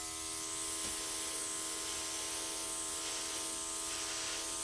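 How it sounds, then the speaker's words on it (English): A cordless airbrush sprays plain air with no paint loaded, giving a steady hiss over a faint motor buzz, close and continuous at an even level. "cordless airbrush is the way to go"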